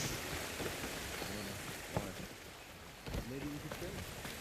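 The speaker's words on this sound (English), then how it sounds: "Wish it wouldn't rain so much." Rain falls in the video game Horizon Forbidden West as a steady soft hiss of drops, running beneath intermittent character dialogue.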